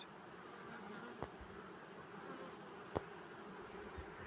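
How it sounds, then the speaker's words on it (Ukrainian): Honeybees working at a row of beehives in an apiary give a faint, steady outdoor hum, broken only by a couple of brief soft knocks. "Стою на ряду бджіл принципі немає такого, що вбивають чи ще щось ну, подобне."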